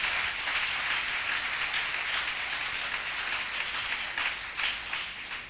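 A church congregation at a Côte d'Ivoire archbishop's service applauds steadily, a dense continuous wash of many hands clapping and cheering throughout, fairly loud and unbroken, with no clear speech over it.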